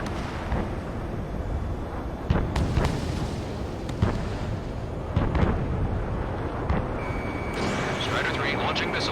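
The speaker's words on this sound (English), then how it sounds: "Missile fire, evading." Missile launches and explosions in the aerial combat game Ace Combat 7 during the Farbanti battle, a dense rumbling barrage of repeated booms and whooshes mixed with radio chatter and alert tones throughout.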